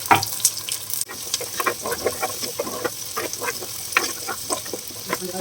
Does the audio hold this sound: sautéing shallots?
yes